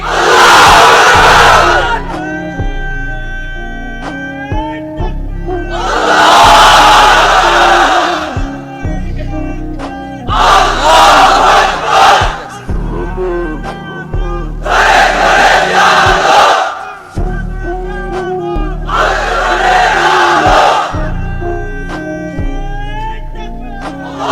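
A large crowd of unmarried men at a religious gathering roars a call-and-response Takbir chant, with five loud surging shouted bursts separated by a leader's voice calling out between them.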